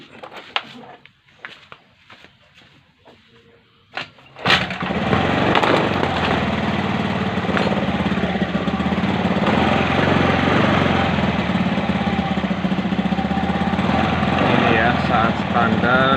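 A motorcycle being checked for charging-system faults, with a regulator-rectifier problem, starts after a few seconds of quiet clicks and handling, then settles into a loud, steady idle that runs close and unbroken.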